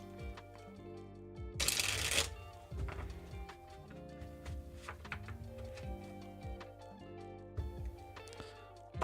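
Tarot cards being shuffled and drawn, a loud riffling burst followed by softer slides and taps as single cards are laid out, over a sustained background tone with no speech.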